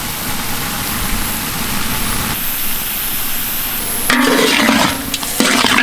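Pork sizzles loudly in a pan while it is stirred, a continuous hiss with scraping and shifting that swells toward the end.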